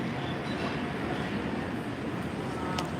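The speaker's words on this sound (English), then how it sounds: "Alright, so the D train is coming now." MBTA Green Line D train arriving, a steady loud rumble of rail wheels and motors filling the whole stretch, with a faint squeal near the end.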